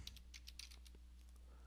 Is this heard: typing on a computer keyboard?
yes